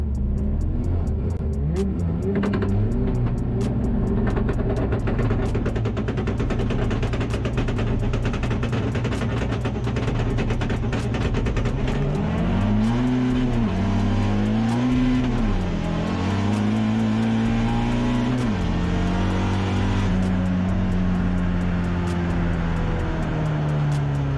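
A car makes a quarter-mile drag run, its engine roaring loud and steady, with rising revs that drop at each gear change and then climb again.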